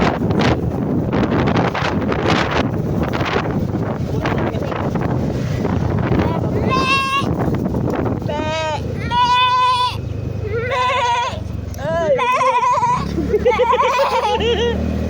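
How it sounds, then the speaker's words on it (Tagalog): Several goats bleat in quick succession after a stretch of loud wind buffeting the microphone, with people talking in between, at a shrine in the Philippines. "Ayan yung mga kambing."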